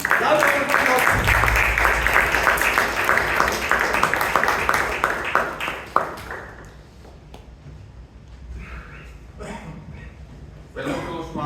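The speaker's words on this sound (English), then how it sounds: "Please, loud round of applause." Audience applause at a Toastmasters club meeting, a dense patter of clapping for about six seconds that then fades out, followed by a voice speaking.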